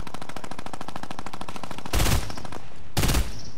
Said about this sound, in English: Oh, they have a minigun.